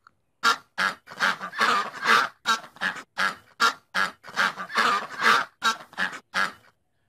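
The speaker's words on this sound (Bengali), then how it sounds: "হাঁস, হাঁসকে ইংরেজিতে বলে ডাক।" A duck quacks over and over in a fast, loud run of harsh nasal calls, close by and alone, in uneven bursts that go on for several seconds.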